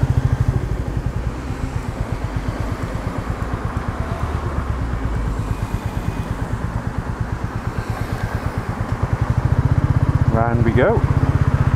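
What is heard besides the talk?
Royal Enfield Meteor 350 motorcycle engine riding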